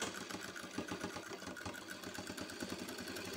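A sewing machine stitching along the marked line of a pant leg, a fast steady mechanical chatter that is close and quiet, with no talk.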